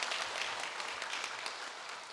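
Church congregation applauds its choir during a Sunday service, steady dense clapping heard at a moderate distance, fairly soft and even across the short stretch with no voices over it.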